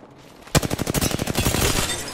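Rampart's minigun fires in the Apex Legends video game, kicking in abruptly with a loud opening shot and then roaring on in a fast, evenly spaced stream of rounds.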